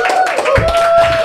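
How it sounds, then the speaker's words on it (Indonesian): Audience clapping at a stand-up comedy show as the legendary comedian Om Indro is welcomed: a short burst of hand claps mixed with cheering and a host's voice over the top. "Wah, tepuk tangan Om Indro teman-teman."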